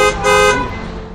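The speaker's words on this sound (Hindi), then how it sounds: "the drivers are usually honking without any reason" Vehicle horns blare on a busy main road beside a school, two close, loud toots in quick succession, the second held longer before fading into traffic rumble.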